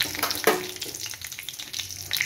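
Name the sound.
tempering spices frying in hot oil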